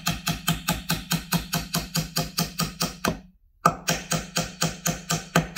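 Bamboo chopstick peg with glue being hammered into a drilled hole in a woodworking tenon joint, a close, rapid, even series of sharp taps, a brief pause, then more taps.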